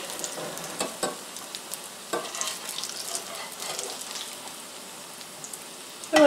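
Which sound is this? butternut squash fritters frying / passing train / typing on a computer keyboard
butternut squash fritters frying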